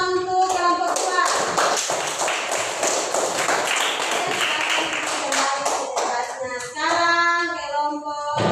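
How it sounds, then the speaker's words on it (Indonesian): Applause for a group of students, a few seconds of quick close-by clapping with a voice speaking before and after it. "tepuk tangan untuk kelompok 2"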